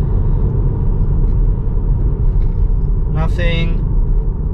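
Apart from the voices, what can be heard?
Tesla Model 3 car driving uphill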